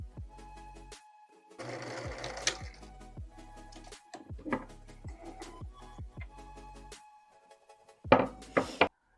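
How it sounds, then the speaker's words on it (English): A home sewing machine stitches blouse sleeve seams in short, stop-and-start bursts of whirring, mixed with close knocks and thunks from handling the fabric and machine. "I sewed together the sleeves, I finished the seams"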